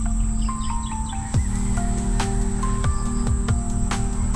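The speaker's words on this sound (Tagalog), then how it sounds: "Yan, mga kuliglig, mga manok, mga ibon, mga naririnig mo dito." Countryside ambience with steady droning crickets and insects, scattered birdsong chirps and calls, and a few sharp clicks, all close and continuous with no talking.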